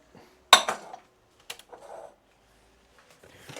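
A big cooking pot handled in a home kitchen while baking a cake, with a sharp metallic clank, a fainter knock a second later and some light rattling, otherwise quiet.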